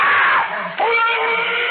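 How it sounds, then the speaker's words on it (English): Screams from children in a nursery during a radio drama, a loud continuous high-pitched shrieking with a brief dip midway before rising again, filling the whole moment without speech. "Those screams. They sounded familiar."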